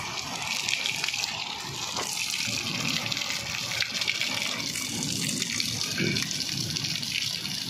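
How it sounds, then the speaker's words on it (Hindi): Rainwater gushes from a shop's roof drain spout during heavy rain with strong wind, a steady, loud, continuous pouring splash that runs unbroken throughout. "ये देखें, ये परनाला हमारा चल रहा है, ये दुकान का।"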